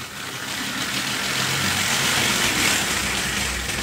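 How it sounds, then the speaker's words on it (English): The small motor of a Hornby OO gauge model tank engine whirs and hums steadily, a continuous buzzing run with no pauses, fairly close, running at low power. "this tank engine really wants to take off"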